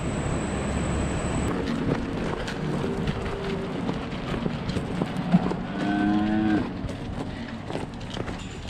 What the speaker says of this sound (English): There's actually 25 cows. Put them all in the corral.